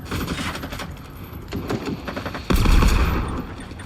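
Machine gun fire in Generation Zero, bursts of rapid shots that pause and resume, closing with a louder, heavier burst.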